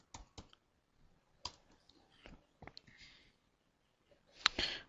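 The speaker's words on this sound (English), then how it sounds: "I'm going to type start." Typing on a computer keyboard produces a few scattered, crisp key clicks in irregular bursts, quiet and close, ending with a brief louder clatter.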